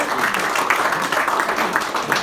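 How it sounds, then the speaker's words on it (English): A comedy club audience claps, a short, dense patter of many hands that is steady and moderately loud for a couple of seconds. "Clap if you're a dad."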